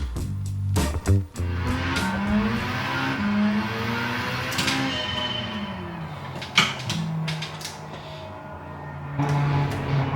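A race car lapping in Gran Turismo on PS5, engine droning steadily with pitch rising and falling through gear changes, plus brief tire squeals and a few sharp thumps, loud and continuous throughout.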